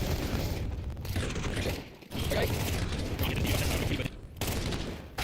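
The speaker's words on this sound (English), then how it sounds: "a beautiful shot hit from Flyrax" Rapid gunfire in a Counter-Strike match, bursts of shots and mechanical clatter in quick succession, loud and near, with a few short gaps between volleys.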